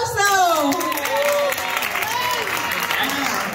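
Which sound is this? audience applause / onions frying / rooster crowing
audience applause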